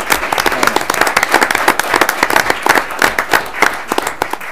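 Loud, dense applause from a large audience at a city council meeting in Moscow, many hands clapping at once in a sustained burst.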